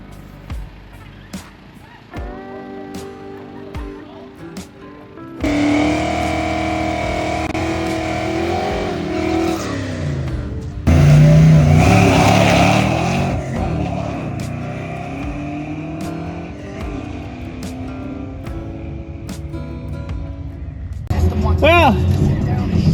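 A 1969 Chevrolet Nova rides under load, its engine droning and surging through hard acceleration runs with loud bursts of revving, while people talk over the steady interior roar.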